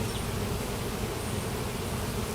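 Honey bees in an opened hive under inspection, two years since its last check, hum in a dense, steady buzz that fills the space, close and continuous.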